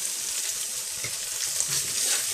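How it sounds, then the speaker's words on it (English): Chilli powder and mixed spice powder being stirred into a vegetarian Madras curry sauce, which fries with a constant close sizzle and faint stirring, without any talking. "Give it a little stir."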